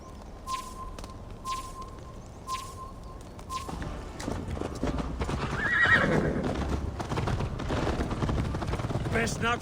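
Horse hooves clip-clopping and a loud whinny in Assassin's Creed Valhalla, with regular hoofbeats at first, then a busier mix of galloping, neighing and game ambience.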